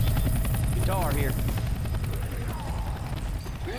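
Helicopter rotor noise in a video game, a steady loud low drone running throughout with bursts of gunfire mixed in, while people talk over it.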